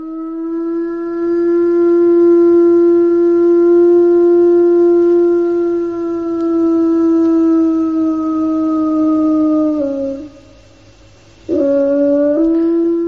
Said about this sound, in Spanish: Los especialistas todavía no saben por qué aúlla el lobo